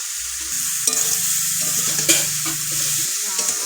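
Taro leaf curry with prawns frying and being stirred in a pan, a steady close sizzle broken by spoon scrapes and clinks, with no talking.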